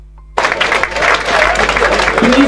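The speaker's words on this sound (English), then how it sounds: "Let's clap for all the candidates for Kawempe." Sudden burst of applause for the Kawempe North candidates at a gathering, starting abruptly after a brief quiet and continuing as dense, loud clapping with some voices underneath.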